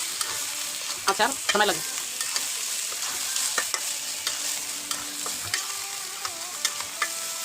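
A spoon stirs Bombay chili pickle in a frying pan, scraping and clinking against the metal over a steady oily sizzle, with someone briefly speaking nearby.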